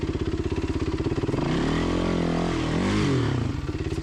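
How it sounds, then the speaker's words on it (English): A motorcycle engine revs hard on a steep off-road climb at Spangler, with the rider slipping the clutch to limit rear-wheel spin. The loud pulsing exhaust rises and falls steadily throughout, with no talking. "Even though the engine's revving, I'm controlling it with the clutch."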